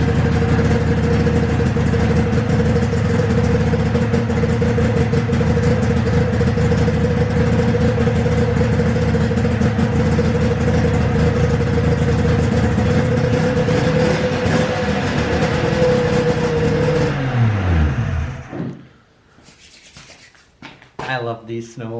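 A 1995 Polaris XLT 600 snowmobile engine runs steadily at a loud, rough idle with a constant drone, then shuts off and winds down to near silence, followed by faint handling noises.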